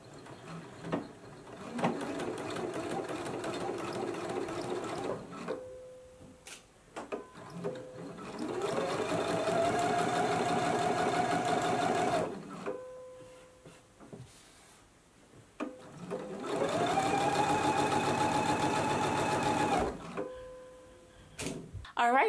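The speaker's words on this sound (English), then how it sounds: "So now I'm just gonna go ahead and begin stitching straight down here." Sewing machine stitching a seam on a True Bias Roscoe blouse, running in three bursts of steady, whirring mechanical stitching with quiet gaps and small clicks between them, close by.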